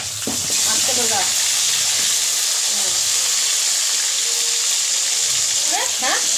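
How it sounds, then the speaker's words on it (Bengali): Cardamom, dried red chillies, black peppercorns, cinnamon and garlic frying in hot oil for a spicy red chicken kosha, a loud, steady sizzle with brief voices in the background. "হ্যাঁ, ভাজা হোক। ভাজা ভাজা হয়ে গেছে।"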